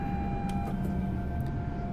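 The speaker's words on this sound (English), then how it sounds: "So many safety systems to beep at us, of course." A steady electronic warning tone with faint overtones sounds from a train's safety system in Train Sim World 3, aboard a Hitachi-built ScotRail Class 385 on the Edinburgh–Glasgow line. It runs continuously over a low rumble of running gear.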